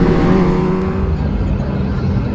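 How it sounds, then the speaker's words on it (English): Kawasaki H2 superbike engine revving nearby on a city street, a loud, dense, continuous roar that holds steady and then slightly eases off. "That H2 sounds real good."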